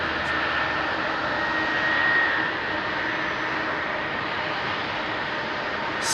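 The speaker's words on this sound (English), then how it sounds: "It's a noisy old airplane, isn't it?" An old airliner with Rolls-Royce engines departs Heathrow at night, a loud, steady, broadband jet roar rising slightly then holding, with no voices.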